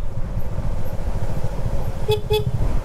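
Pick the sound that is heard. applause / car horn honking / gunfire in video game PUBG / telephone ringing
car horn honking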